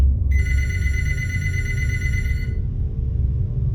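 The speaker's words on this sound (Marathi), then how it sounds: "तेव्हाच बिल्डरला त्याच्या फोनची घंटी ऐकू आली" A telephone bell rings in a steady electronic trill for about two seconds, then stops, over a low rumbling background hum.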